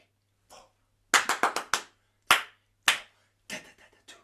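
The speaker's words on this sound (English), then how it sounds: "Let's just stick with the hand claps for now." Hand claps in a body percussion rhythm, sharp and close, starting with a quick run of four even claps and then spaced single and paired claps in a steady counted pattern, with no voices over them.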